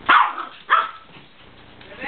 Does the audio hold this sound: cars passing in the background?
no